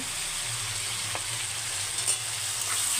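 Broiler chicken fries with chili and coriander powder, giving a steady close sizzle with a soft stir or two, short and without speech.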